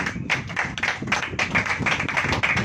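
A church congregation claps hands together during a Hindi sermon, a dense, steady run of overlapping claps filling the space at moderate loudness.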